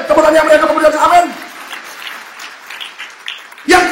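A congregation applauds at a Christmas church service, a steady, moderate wash of clapping that rises after a preacher's voice and fades before his talk resumes.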